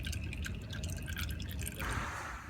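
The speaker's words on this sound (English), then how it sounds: "I loosened it so it's draining a little bit, let it drain" Engine oil draining in a steady trickle from the loosened drain plug of a 2009 Nissan Altima V6, a continuous close liquid drip and patter that brightens slightly toward the end, with no talking.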